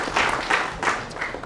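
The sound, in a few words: audience applause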